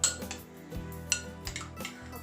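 Spoon scraping and clinking inside a pot as a creamy chicken and biscuit casserole is stirred, with a few light metallic taps and soft scrapes at close range, no talking.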